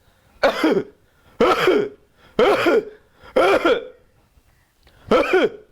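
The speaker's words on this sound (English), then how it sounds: "a very interesting cough, which is a barking cough" Five harsh, barking coughs in a steady series, each a loud hoarse burst with a brief pause between, close and alone without talk.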